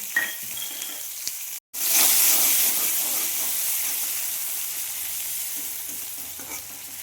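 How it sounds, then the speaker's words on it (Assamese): Raw banana fries with dried chili and crushed onion in hot oil, a loud continuous sizzle that flares up after a brief break and then slowly eases. No one speaks. "ইয়াতে মই ভাজি ল'লোঁ।"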